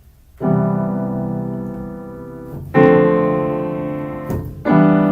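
Sustained piano notes ring out, each cut off abruptly by short silent gaps from a lifted sustain pedal before the next note sounds; three separate attacks in all.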